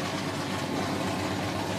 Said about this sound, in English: Of course, the engine would start right before we introduce John Hunter.